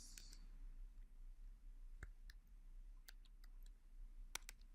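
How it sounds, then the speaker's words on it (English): Sparse, faint clicks of a misbehaving computer keyboard during coding work, isolated taps scattered irregularly over a quiet room hum, no talking. "my keyboard is acting up"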